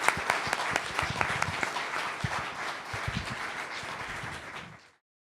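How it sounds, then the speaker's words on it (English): An audience applauds the two debaters at the close of a debate on Islam versus Christianity, steady crisp clapping with some louder individual claps, fading out just before the end. "one last round of applause"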